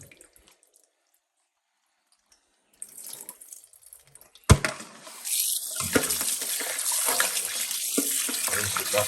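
Tap water runs into a sink to rinse oxtail, starting with a sharp clunk after near silence and then a steady loud close gush with splashing.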